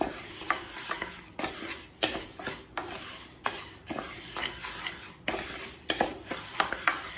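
Moong dal dry roasting in a pan, stirred with a spoon in a steady rhythm of scraping strokes and light clinks against the metal, with a soft rustle of grains between strokes.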